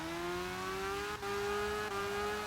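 The Wellington car's engine in CarX Drift Racing 2 holds a steady, rising drone as it revs, broken by two brief dips like quick gear shifts, loud and continuous with no talk.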